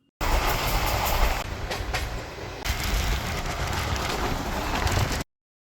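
Inside the 18047 Kolkata–Goa Amaravathi Express passenger train, a steady loud rolling rumble of wheels on rails with faint clatter, continuous throughout and without talk.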